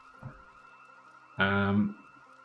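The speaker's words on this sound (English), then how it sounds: "we could have had on a house alarm" A house alarm in the Project Zomboid video game blares for about half a second, a loud harmonic electronic tone cutting in over quiet background ambience.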